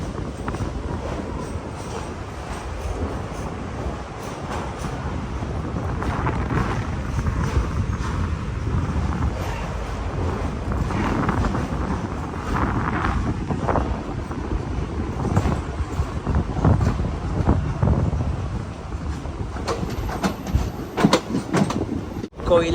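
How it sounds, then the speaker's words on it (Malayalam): A Tambaram–Mangaluru Express rolls into Vadakara railway station, heard from inside a sleeper-class coach as a continuous low rumble and clatter with wind buffeting, faint indistinct voices and sharper knocks near the end. "കൊയിലാണ്ടി സ്റ്റേഷൻ കഴിഞ്ഞ് ട്രെയിൻ ഇതാ വടകര റെയിൽവേ സ്റ്റേഷനിലേക്ക് എത്തിയിരിക്കുകയാണ്"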